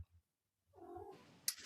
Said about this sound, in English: Sorry about the noise in the background. My cat's gone nuts.